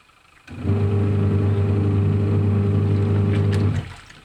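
A Panasonic twin-tub washing machine with a strong agitator starts up and runs with a steady, loud motor hum and churning drone for about three seconds, then cuts off abruptly.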